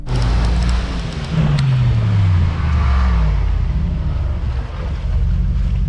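A Mercedes-AMG G63 with a 585-horsepower engine accelerates in an uphill drag race. A deep engine drone shifts in pitch under heavy, wind-like rushing noise that stays loud throughout.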